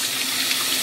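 Water runs steadily from a tap into a pot of rice being rinsed, a close, even hiss lasting under a second.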